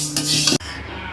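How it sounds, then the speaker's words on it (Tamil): Green gram lentils being stirred as they dry-roast in a pan over medium heat, giving a steady dry scraping rustle that stops abruptly about halfway through and gives way to quiet. "ஸோ கிளறிட்டே இருக்கணும், நம்ம என்னமா கிளறிட்டே இருக்கணும்."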